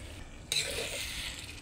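Beaten egg being stirred into bitter gourd and corned beef frying in a pan: a quiet start, then a sudden soft sizzle with light scraping that carries on steadily.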